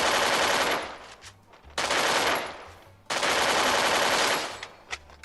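Automatic gunfire in the mobile shooter game Free Fire, three long sustained bursts of rapid shots, loud and dense, with brief gaps between them.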